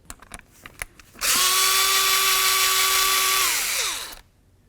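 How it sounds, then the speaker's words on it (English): Power tool removing the mounting bolts of a 1999-2007 Ford F250 locking hub. A few light clicks come first, then a loud steady whine runs about three seconds and winds down as the tool is released. "we're going to remove all of our mounting bolts"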